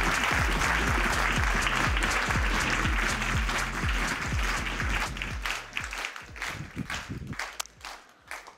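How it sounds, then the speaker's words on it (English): A conference audience applauds for a speaker, dense sustained clapping that thins out and trails off into scattered claps near the end. "let's give them the best applause we've heard so far today"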